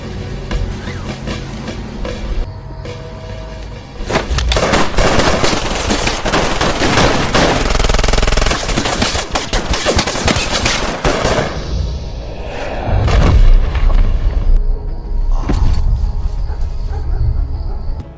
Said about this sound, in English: The brutal shooting resulted in Walt's death, with dozens of bullets lodged in his body